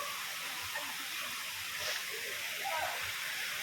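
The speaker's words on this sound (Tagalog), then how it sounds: "Ang dami palang nilalabasan ng mga tubig. Kaya malakas yung tubig niya." Spring water gushes strongly from several outlets at a forest spring, a steady, loud broadband rush that fills the whole stretch without pause.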